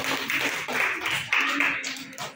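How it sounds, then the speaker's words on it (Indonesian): Classroom applause for a student group after their presentation, a few children clapping unevenly in short bursts for about two seconds, close and moderately loud. "Kasih tepuk tangan untuk kelompok lampu."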